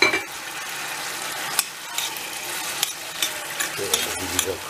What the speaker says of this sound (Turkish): Şöyle bir güzel karıştırıyoruz.